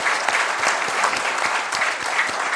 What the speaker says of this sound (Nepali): एकचोटी ताली बजाइदिनुहोस् सबैको निम्ति